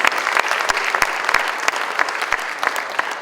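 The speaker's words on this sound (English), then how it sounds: "Let's give them all a big round of applause." An audience claps in lively, sustained applause, a dense wash of many hands with a few sharp, close individual claps standing out above it.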